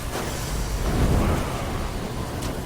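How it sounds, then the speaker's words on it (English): A spell explosion in Neverwinter Nights 2 lands as a low, rumbling blast that swells near the middle and then trails off into a steady roar, with no voices over it. "Drop another explosion over there."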